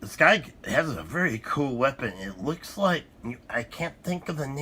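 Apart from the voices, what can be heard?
No distinct noise like a dog, phone or traffic.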